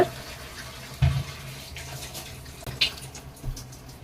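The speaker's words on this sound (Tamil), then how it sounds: "அந்த காய் முங்குற அளவுக்கு நம்ம தண்ணி ஆட் பண்ணா போதுங்க" Water is poured into a pot of eggplant sambar, giving a close, splashing gush followed by quieter trickles and a few knocks against the vessel.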